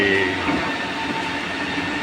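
A water metro ferry rumbles steadily along, its continuous low roar and faint hum close around the listener, with no voices.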